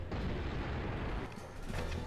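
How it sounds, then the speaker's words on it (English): Cartoon explosions from the Looney Tunes: Acme Arsenal video game, a dense burst of booming blasts that rumble heavily for about two seconds, with a short lull and another thump near the end. "Explosions! Michael Bay would be proud."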